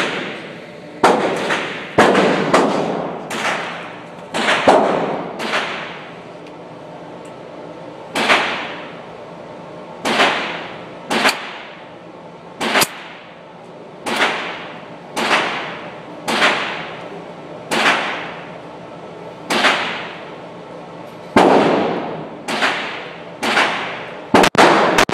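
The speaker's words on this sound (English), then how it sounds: "now I'm going to test fire. Rapid shooting, see if it jams at all." A CZ-70 pistol fires in a rapid test string of about twenty sharp, loud shots. Most come one at a time at a fairly even pace, with a few closer doubles, and no voices are heard.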